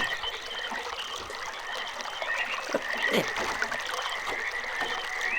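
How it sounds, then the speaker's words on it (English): Running water flows steadily in the RealMyst video game, a continuous soft rushing and trickling, with occasional croak-like calls over the ambience. "Okay, so water is going that way. Okay, now I can hear it going."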